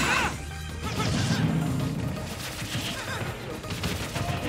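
A bomb item exploding in a Super Smash Bros. Ultimate match, a sharp crash at the start followed by a dense clatter of hits and game effects, under a commentator's voice.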